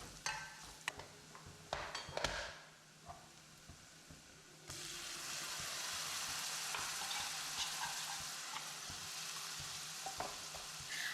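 Chili powder and coriander powder sauté in a pan for paneer butter masala. A few scattered scrapes and clicks of stirring give way to a loud, continuous sizzle that fills the second half.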